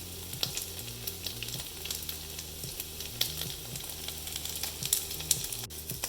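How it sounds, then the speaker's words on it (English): Frozen gyoza dumplings sizzle and crackle in a hot frying pan, a steady close sputter with scattered sharp pops. "So now you start to hear the sizzling, which means it's heating up nicely."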